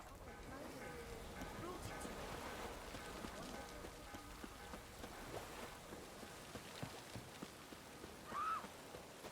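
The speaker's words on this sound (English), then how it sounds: "Rain again." Faint, steady rain falls in The Witcher 3, a soft patter of drops on surfaces running continuously under the game's other sounds, with a brief tonal chirp near the end.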